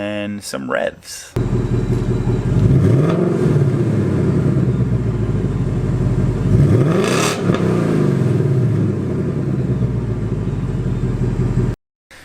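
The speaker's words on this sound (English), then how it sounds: "it's the V8, which sounds awesome already." A V8 car engine idling after a cold start, loud and close, rising twice in sharp revs before settling back to a steady rumble, then cutting off abruptly at the end.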